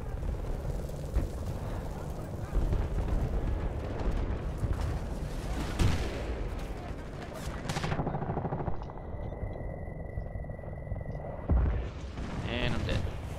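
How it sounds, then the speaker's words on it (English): A frag grenade blast in the combat video game Battlefield Bad Company 2 erupts amid constant gunfire and battle noise, with sharp bursts near the middle and end and a voice talking over the mix. "Maybe I'll get somebody with that frag."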